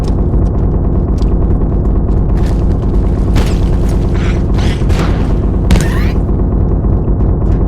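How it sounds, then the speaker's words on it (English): Loud bursts of gunfire in the video game Abiotic Factor crack over a constant low rumble, with several sharp shots spaced irregularly. "I hate that gunfire, it's far too loud."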